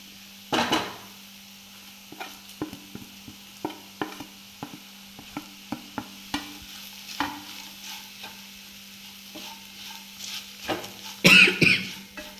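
Prawns coated in chilli powder are stirred in a pan for a Kerala-style prawn chammanthi, with repeated scraping strokes and a soft sizzle underneath, plus a louder clatter near the end.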